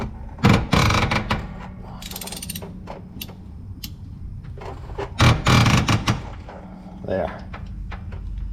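A wrench ratchets while tightening a bolt, giving close, loud clicking pawl bursts in several uneven spells with creaks and mechanical clanks between, and people talking at times.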